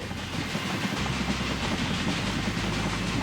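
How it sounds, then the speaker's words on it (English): A train in the Railway Empire 2 video game rolls into a station with a steady low rumble and soft rhythmic clatter of wheels, continuous and moderately close. "The train has arrived and is being unloaded."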